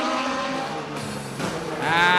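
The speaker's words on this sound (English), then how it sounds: "That 370 brake horsepower engine behind him." Formula V6 Asia race car with a 370 brake horsepower engine on a wet track, loud continuous engine howl with gear shifts and a rising whine at the end.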